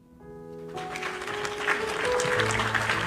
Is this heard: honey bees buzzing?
no